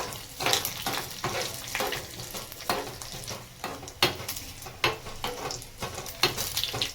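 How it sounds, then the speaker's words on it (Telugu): Dry chillies, cumin and mustard seeds tempering in hot oil for methi dal, a close, busy sizzle and crackle with rhythmic stirring strokes scraping the pan throughout. "మనకు ఇవి జీలకర్ర ఆవాలు ఇవన్నీ అస్సలు నల్లగా మాడకుండా జాగ్రత్తగా చూసుకోవాల్సింది ఈ మూమెంటే."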